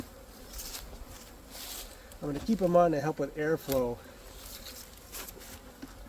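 Honey bees escaping from a hive hum in a steady, dense drone throughout, while a person talks briefly over the buzzing partway through.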